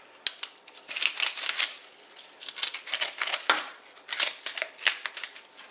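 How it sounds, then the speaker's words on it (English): Scissors snip through the plastic netting wrapped around a raw holiday turkey, a close series of crisp cuts and crinkles coming in irregular bursts with short pauses between them, no talking. "I'm going to cut this netting off"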